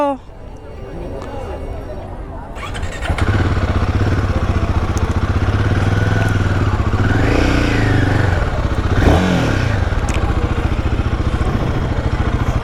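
A newly delivered motorcycle starts up after a quiet moment and settles into a steady engine run with some revving, fairly close and loud, with voices talking over it.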